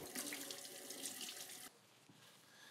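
Tap water runs steadily and splashes over a freshly cast epoxy guitar pickguard being washed with soap, loud at first and then quieter as the flow changes.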